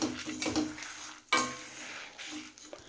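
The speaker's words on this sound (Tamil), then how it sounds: "பருப்பு சூடாக இருக்கும்போதே கல்லுப்பு சேர்த்து பரட்டி விட்டோம்னா பருப்பு கருகாமல் இருக்கும்." Roasted lentils with rock salt and asafoetida are stirred in a hot pan, a spoon scraping and clinking against the metal with soft sizzling, including one sharper knock partway through, close and with no speech.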